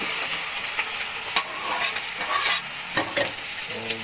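Onion and garlic stir-fry in a hot pan, giving a steady bright sizzle with occasional pops and the scrape of stirring, close and without talk.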